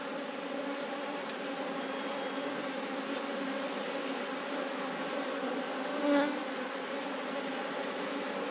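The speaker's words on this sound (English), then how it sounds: "a lot of these bees are just kind of just sitting there" Honey bees drone steadily around an open backyard hive during a colony split, a dense, continuous buzz with a few individual bees flying close by, with no talking.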